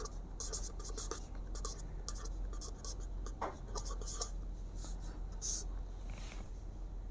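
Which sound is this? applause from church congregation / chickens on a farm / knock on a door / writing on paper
writing on paper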